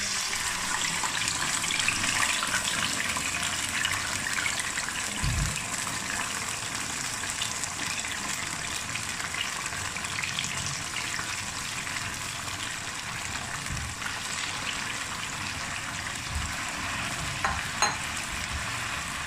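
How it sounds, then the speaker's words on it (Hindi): Milk-soaked semolina poured into caramelized sugar in a pan, giving a loud, steady sizzle and bubbling that runs throughout while a spoon stirs, with a few faint knocks. "जो हमने सूजी दूध में भिगो के रखी थी ना, वो डाल देंगे इसके अंदर"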